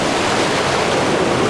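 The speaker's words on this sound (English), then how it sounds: "just waiting for the waves to spill over the rocks" Ocean waves spill over the rocks near Fanad Lighthouse in Donegal, a dense, continuous roar of surf and rushing water, loud and close with no voices.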